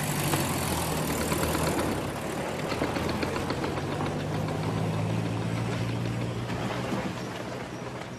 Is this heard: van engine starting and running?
yes